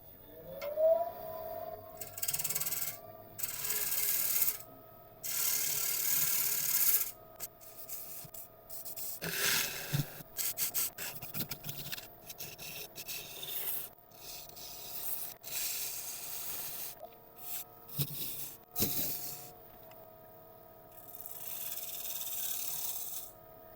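Tool making shear cuts on greenheart wood spinning on a lathe, repeated rasping scraping passes a few seconds long, separated by short pauses, close and fairly quiet.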